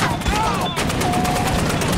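A gunfire exchange between Taliban fighters and US soldiers, with loud, dense bursts of shots crackling continuously and close by for about two seconds.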